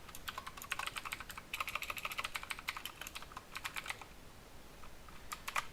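Rapid keystrokes on a computer keyboard while code for a Python tic-tac-toe project is entered, the clicks coming in dense bursts with short pauses, close and fairly quiet, no voices.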